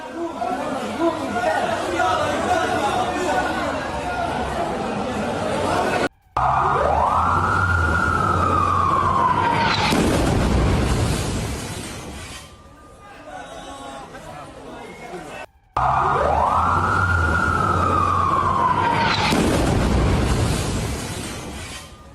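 Ambulance sirens wail in rising and falling sweeps in Gaza after an airstrike near a hospital, loud and close over crowd chatter and shouting, with the scene recurring after a brief break.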